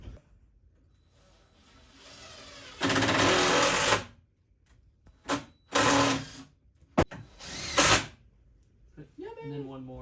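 A power drill drills a pilot hole into the edge of a board while restoring a rock saw, with several loud bursts of drilling separated by pauses and people talking in between.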